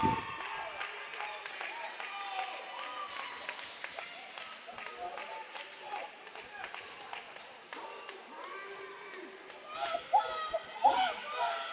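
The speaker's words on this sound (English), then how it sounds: "as the crowd goes wild" Youth hockey championship crowd at a 14U game cheering and clapping after a goalie's save, a dense, steady roar of voices and applause with shouts rising louder near the end.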